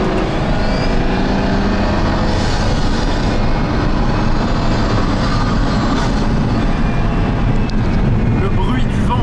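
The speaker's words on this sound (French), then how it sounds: "Le bruit du vent est impressionnant." Loud, steady roar of wind and road rush inside a Pagani Huayra Codalunga, a 840-horsepower rear-drive hypercar on winter tyres, filling the cabin continuously with broadband rumble and hiss.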